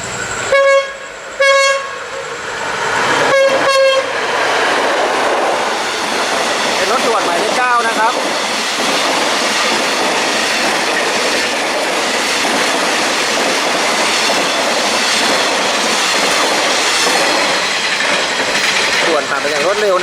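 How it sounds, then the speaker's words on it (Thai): A train horn toots twice, then the Bangkok–Chiang Mai express passenger train No. 9 rushes past Chiang Rak Noi station at dusk with a sustained loud roar and rattle of wheels, continuing steadily. "รถไฟกำลังจะผ่านนะครับ"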